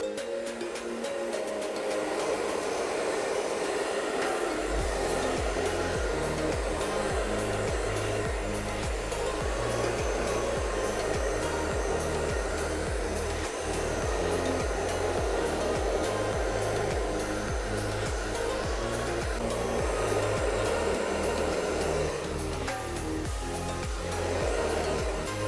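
A heat blower roars steadily and close for the whole stretch as it warms an acrylic paint Dutch pour, a continuous loud whooshing hum with no pauses.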